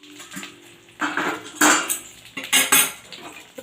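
A lid set onto a frying pan: several close metallic clanks and rattles in quick succession, over a faint background sizzle.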